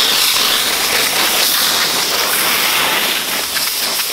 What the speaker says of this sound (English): Let it all get worked in there with the steam.